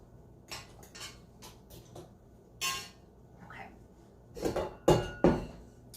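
A stand mixer bowl is lifted off and set down in a kitchen, giving a series of sharp metallic clinks and clanks, with louder knocks near the end.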